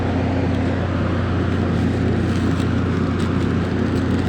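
A Niigata marine diesel engine idles steadily after a rocker arm installation, a continuous low rumble with a strong, even drone that holds at constant loudness throughout, close to the machine, with no talk.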